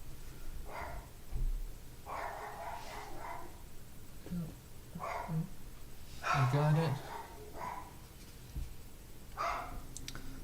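A dog barks intermittently in the background of a room during a late-night live stream, with faint repeated barks spread through the clip while a person talks over them.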